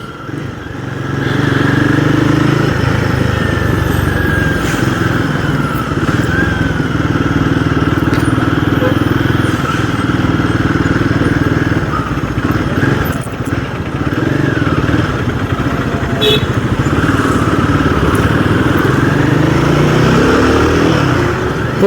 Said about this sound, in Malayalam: ഇതിൻ്റെ എക്സോസ്റ്റ് നോട്ട് കേൾക്കാൻ ഭയങ്കര രസമാണ് കേട്ടോ.